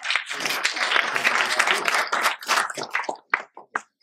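An audience of HR professionals applauds a trade union confederation president with a burst of hand clapping that stays dense at first, then thins out into a few scattered, isolated claps before fading.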